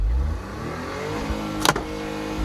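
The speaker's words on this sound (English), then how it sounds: "Should we rev it and then rip it off?" A Smart car's small engine revs up, rising in pitch through a sustained climb, then a sharp clattering knock cuts in near the end; no one talks.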